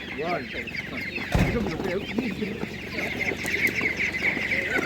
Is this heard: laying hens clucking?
yes